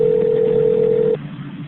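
A telephone line during a call transfer at a sheriff's department, carrying a steady single-pitched tone that cuts off abruptly after about a second to leave a quieter line hum.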